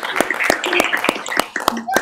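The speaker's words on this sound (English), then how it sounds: "please join me in a round of applause in congratulating the Army's newest second lieutenants" Applause at an Army ROTC commissioning ceremony for new second lieutenants, sharp regular hand claps about three per second, close and clear, with voices murmuring between them.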